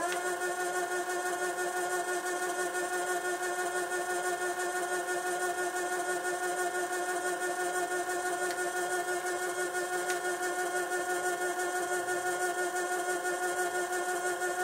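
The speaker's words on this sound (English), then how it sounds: "This is the sound of the servo motor at 360 RPM" A servo motor driving a CNC rotational axis used as a micro lathe runs at 360 RPM, giving a steady, even tonal whine and hum that holds unchanged throughout, alone and close.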